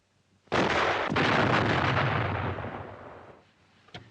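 A T-55 tank fires its main gun in one loud, close blast that rumbles and fades over about three seconds. A single sharp knock follows shortly after.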